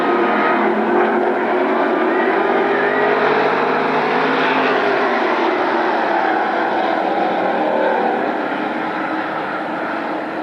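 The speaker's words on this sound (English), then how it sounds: "8-lap Superstock Heat race" Superstock stock cars roar around Berlin Raceway in an 8-lap heat race, a dense, continuous engine drone from several cars at once, steady and loud for the whole stretch with no voices over it.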